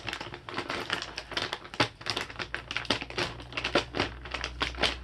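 Keys scraping, poking and tearing through an Amazon box's tape and cardboard, a close, busy string of crinkling rips and scratchy strokes with no talk.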